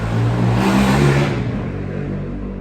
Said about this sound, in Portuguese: aqui é bem no centro, então passa barulho de moto mesmo